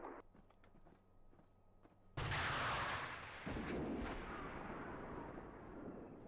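A sudden heavy blast in Steel Beasts Pro PE tank combat breaks a quiet stretch of faint clicks, then rolls into a long, loud rumbling decay.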